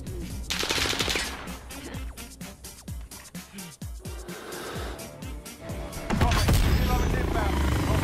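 Gunfire in Call of Duty Warzone cracks in sharp, uneven shots and short bursts, mixed with game noise and voices, building into a louder, denser roar near the end.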